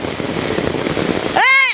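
Rain falls in a Bangladeshi village during the rainy season, a dense, steady hiss that fills most of the moment before a voice briefly breaks in at the end.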